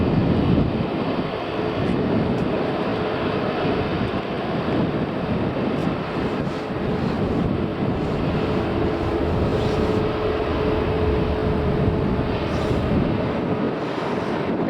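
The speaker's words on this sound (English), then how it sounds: "the Dreamliner has reached the end of the taxiway" Boeing 787 Dreamliner taxiing at Manchester Airport, heard as a steady broad roar mixed with heavy wind rumble across the microphone, constant and fairly loud throughout with no voices.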